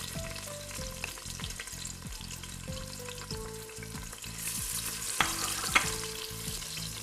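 Onion and chilies frying in coconut oil for a shark meat curry: a steady sizzle with stirring scrapes and occasional small pops close up, and no talking.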